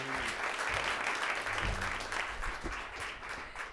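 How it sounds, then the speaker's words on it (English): A warm round of applause from the audience at a state poetry recitation finals in Alaska, steady crowd clapping throughout, moderately loud and slightly distant, with faint voices underneath. "Ladies and gentlemen, give a warm round of applause to Allison Holtkamp."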